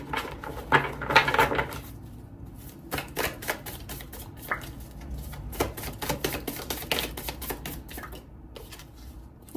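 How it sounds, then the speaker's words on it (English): Tarot cards are handled and drawn from a deck in a quiet room, giving a scattered run of sharp, light clicks, snaps and taps, some clustered and some spaced apart, close to the mic. "let's pull a final tarot card"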